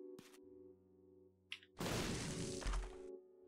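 A bomb detonates in The Binding of Isaac: Repentance with a sudden heavy crash and a broad burst of noise lasting over a second. A short click comes before it over a quiet tonal game background.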